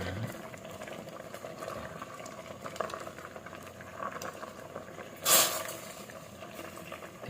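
A creamy tambo (bamboo shoot) dish simmers in a pot, a soft continuous bubbling and gentle patter close up, with a brief louder clatter or splash partway through.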